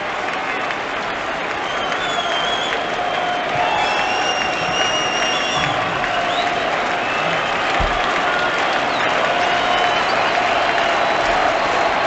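Baseball stadium crowd at a Reds versus Brewers game, a steady, broad roar of applause and cheering that swells slightly and holds throughout, with distant whistles and calls rising above the wash.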